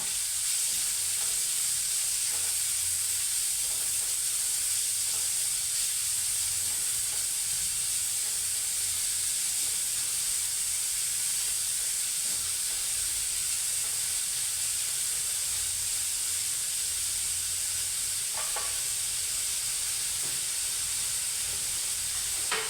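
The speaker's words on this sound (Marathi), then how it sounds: "आता मी कांदा टाकते हा कांदा छान परतून घ्यायचा" Onion sautéing in hot oil with cumin and asafoetida, producing a steady, even hiss and sizzle for the whole stretch, with a few faint stirring clicks near the end and no talking.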